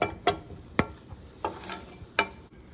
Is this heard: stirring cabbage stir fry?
yes